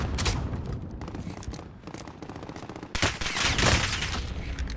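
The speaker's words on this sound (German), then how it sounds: "Ich werde hier drüben beschossen!" Rapid gunfire crackles in a video game as shots come at the player, a dense fusillade of overlapping bursts that swells louder after a brief lull.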